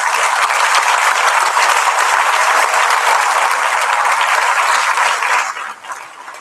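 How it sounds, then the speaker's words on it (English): Students applaud together at a primary school prizegiving, a dense, loud, sustained wash of clapping that fades away near the end. "I'd like you to give yourselves a round of applause for all the good things you've done"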